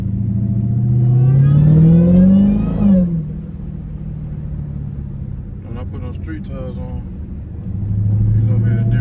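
A Dodge Hellcat engine revs hard while the car slides through a turn on worn tires, rising to a loud roar and then dropping back, with someone talking over it.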